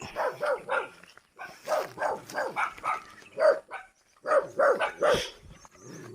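A dog barks repeatedly in quick bursts, close by, with brief pauses between volleys and an occasional whine.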